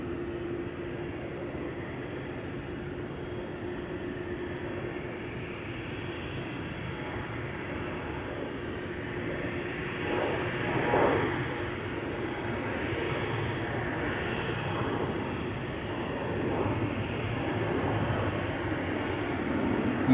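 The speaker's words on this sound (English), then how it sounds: "The Embraer to Düsseldorf is already on the move, coming this way." A KLM Embraer jet bound for Düsseldorf rolls for takeoff at Schiphol's Polderbaan, a steady distant roar that swells slightly toward the end, with no talk over it.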